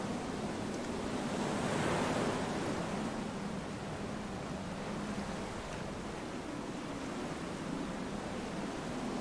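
Storm wind and crashing waves in the video game FAR: Changing Tides, a loud, steady roar of surf and gusting air with no talking.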